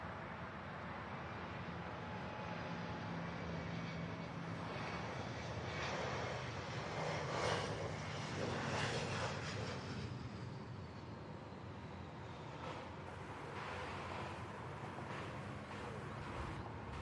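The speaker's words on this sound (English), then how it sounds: "He's coming in out of LaGuardia." A jet airliner landing at Louisville's airport after a flight from LaGuardia gives a long, steady engine roar at a distance, with rising and falling whines as it passes, and no one speaks.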